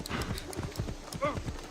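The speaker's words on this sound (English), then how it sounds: "I am terrible at driving this horse." Horse hooves clattering at a gallop in Assassin's Creed Odyssey, quick close hoofbeats with a short neigh, while a person talks over the game sound.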